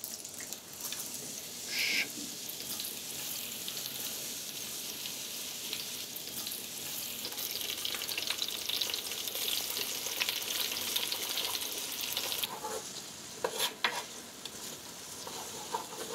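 Garlic sizzles steadily in hot oil in a pan for a seafood feijoada, a dense continuous frying hiss with occasional stirring clatter near the end.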